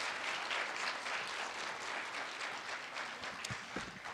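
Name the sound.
audience applause welcoming Meharry Medical College president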